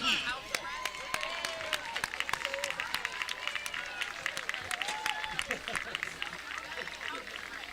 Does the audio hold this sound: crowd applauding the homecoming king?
yes